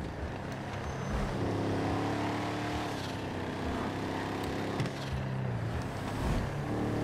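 A car engine drones steadily in GTA 5 Online, a constant moderately loud road-vehicle hum with slight shifts in pitch as the car drives through a cul-de-sac, without any speech.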